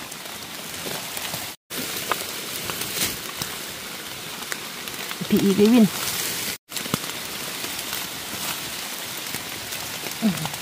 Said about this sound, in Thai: มื่นนี่ฝนตก